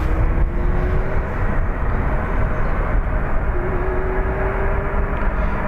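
A Boeing 900-variant jet with bigger, more efficient engines at Dublin Airport produces a loud, steady roar that holds evenly with only slight swells, a broad continuous rumble close to the listener.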